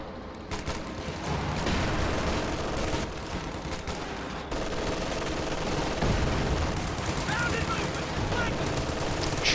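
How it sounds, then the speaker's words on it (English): A Katyusha rocket barrage fires during a World War II strategy game match, a dense, continuous rattle of launches and blasts sustained throughout, with a commentator talking over it. "Katyusha barrage is going off"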